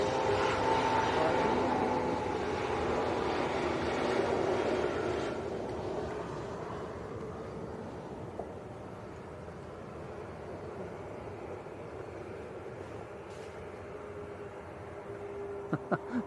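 A Ryanair airliner taxiing quickly at Leeds Bradford Airport, its engine roar and whine fairly loud at first, then fading to a softer, steady drone with a few faint clicks.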